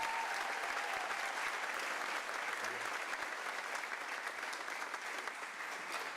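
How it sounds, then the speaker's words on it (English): Audience at a high school Contio ceremony applauds for former school principals, a steady, dense wash of clapping from many hands that holds at an even level throughout, with no talking over it. "Let's give them a round of applause as well."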